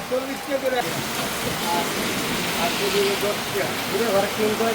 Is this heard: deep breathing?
no